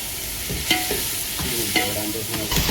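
Tomato fries in a pan for rasam with a dense, steady sizzling hiss, broken by a few soft scraping stirs, close and fairly loud.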